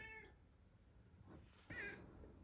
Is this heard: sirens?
no